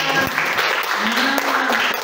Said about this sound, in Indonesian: jangan lupa beri tepuk tangan dulu untuk Mbak Siti